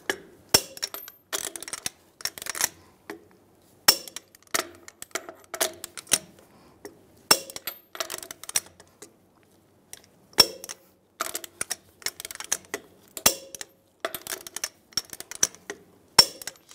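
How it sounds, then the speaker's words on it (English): A torque wrench tightens the rear lug nuts on a 2007-2013 Chevrolet Silverado 1500 pickup to 140 foot-pounds, giving sharp metallic clicks in irregular clusters, close and fairly loud. "Now we're going to torque the lug nuts to 140 foot-pounds in a cross pattern to tighten the wheel down evenly."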